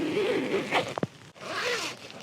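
The door zip of a Terra Nova Vault Duo tent opening, a close raspy zipper pull with a couple of quick tugs in the middle, over low ambient rustle.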